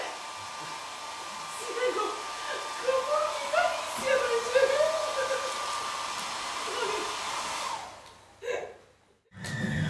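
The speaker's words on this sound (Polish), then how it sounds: "Wyłącz tę suszarkę!" A hair dryer used as a stage sound in a theatre play blows with a steady whooshing roar for about eight seconds, then cuts off. Voices and breathy vocal sounds carry on over it.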